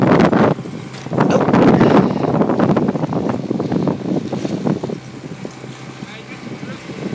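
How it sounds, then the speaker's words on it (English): A boat engine running as the boat sets off on the water, a loud low rumble mixed with heavy wind buffeting and splashing, easing off in the second half, with talk over it. "He's got the boat to start, the engine."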